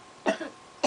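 Two short, dry coughs a moment apart come from someone standing outdoors in the cold during a snowstorm, close and fairly quiet, with no talking.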